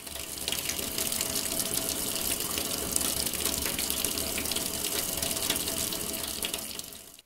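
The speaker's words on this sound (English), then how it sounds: "rinse your hands thoroughly under clean running water" Clean tap water runs steadily into a sink while hands are rinsed, a continuous close hiss and splash with no voices.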